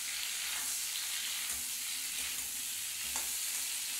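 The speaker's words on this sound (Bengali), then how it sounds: "এবার ঝিঙে পোস্তটা এবার তেলের মধ্যে দিয়ে দিলেন" Ridge gourd in poppy seed paste sizzles steadily in hot oil tempered with cumin, a continuous close frying hiss with faint stirring scrapes throughout.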